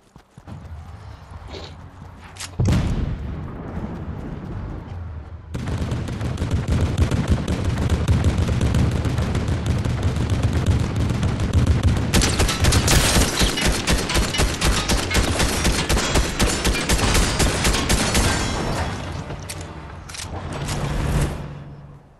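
Dense, continuous gunfire rattles in rapid bursts during a Fortnite match as a player shoots at a tank, loud and close, with a short pause and then heavier sustained firing before it tails off.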